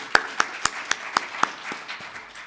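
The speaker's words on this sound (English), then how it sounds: "Let's give Mr. Pinot another round of applause." Sparse handclaps from a small audience at a national ICT summit, about six distinct claps in an uneven rhythm before they trail off, fairly faint and heard without speech.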